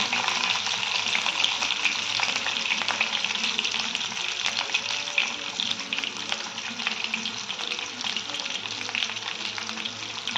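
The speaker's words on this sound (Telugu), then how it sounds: "ఆయిల్ వేడైన ఫ్రెండ్స్ కొంచెం జీలకర్ర కొంచెం ఆవాలు కట్ చేసి పెట్టుకున్న ఆనియన్ పీసెస్" Cumin, mustard seeds and chopped onion fry in hot oil, giving a steady, dense sizzle with crackling pops throughout, close and continuous with no voices.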